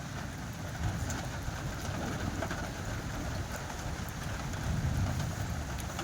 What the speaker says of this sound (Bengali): বাইরে বৃষ্টি শুরু হয়ে গেছে আবার